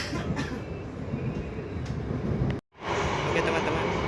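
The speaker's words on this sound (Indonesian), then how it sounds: "kereta api Argo Moria telah diberangkatkan dari stasiun Semarang Tawang" Argo Muria passenger train pulling out of Semarang Tawang station, a steady broadband rumble and rolling rail noise close by, briefly cut by a short dropout before continuing loud.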